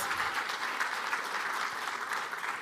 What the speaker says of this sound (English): Please give Rudy another round of applause